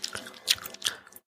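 Someone chewing gum up close, a few wet, sticky smacks and squishes in an uneven rhythm over about a second, alone without talk.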